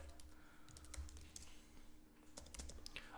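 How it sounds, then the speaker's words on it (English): Fingers type on a computer keyboard in a quiet room, a quick irregular run of close, crisp key clicks with a short pause midway. "we're gonna type this in as lookalike"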